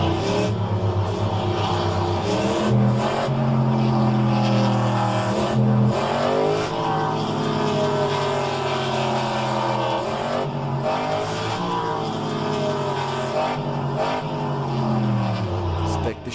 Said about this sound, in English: Really loud cars.